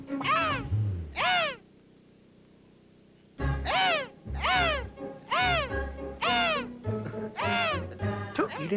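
A voice gives a series of loud, repeated harsh caws in imitation of a crow, two calls followed by a pause and then a rapid run of about eight more.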